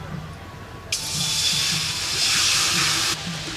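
Water is poured into a cooking pan (karahi) for greens in a village kitchen, a steady close splashing hiss lasting about two seconds over a faint low background hum.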